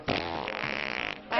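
A single drawn-out fart in an Indonesian comedy film, loud and close, wavering in pitch for about a second before cutting off.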